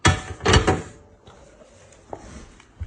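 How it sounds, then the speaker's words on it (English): Door of a Rayburn GD80 gas boiler being shut, a couple of close knocking thuds at the start followed by quiet room tone and a faint click near the end. "Close the door."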